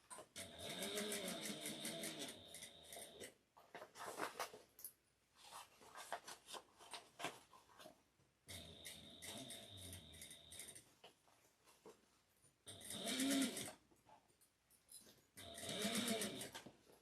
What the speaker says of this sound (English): I'm just going to sew just straight up.